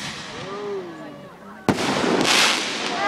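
Fourth of July fireworks at an outdoor show: a whistling rise, then a sharp loud bang followed by crackling sparkle, heard from a moderate distance.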